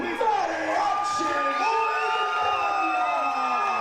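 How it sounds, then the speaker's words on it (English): Wrestling crowd cheering and whooping loudly for the tag team Mariachi Montaña's entrance, a sustained roar of excited shouts and high yells, with faint talk underneath. "listen to that reaction from the crowd"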